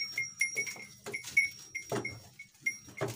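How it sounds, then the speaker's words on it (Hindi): Goat bleating at a livestock market, several short repeated calls close by amid intermittent background noise, no talking. "और एक ये बकरी है"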